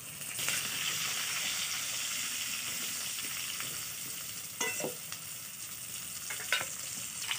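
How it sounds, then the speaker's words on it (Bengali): Potatoes frying in oil in a pan for a Bengali fish curry, a steady dense sizzle throughout with a few brief stirring clinks and scrapes near the end, no talking. "আলুগুলো লাল লাল করে ভেজে নেব।"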